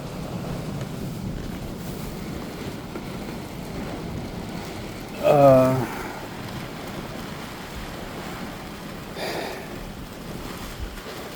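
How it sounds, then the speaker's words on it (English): Steady rain hisses throughout, with a brief louder rumble or splash in the middle and a fainter one later. "As of right now, it's raining pretty bad."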